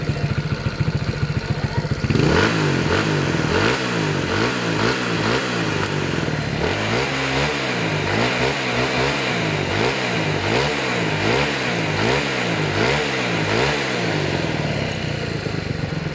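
A small motorcycle with a stock exhaust pipe, fresh from an overhaul with a 6.0 cam, idles and then revs hard. Loud repeated throttle blips rise and fall in a steady rhythm, close up and with no talk.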